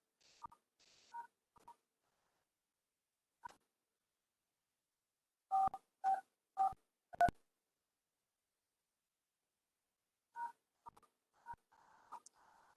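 A phone's dialer keypad sounds a code entry, short DTMF beeps in a few quick clusters separated by pauses, clear and close with no talking.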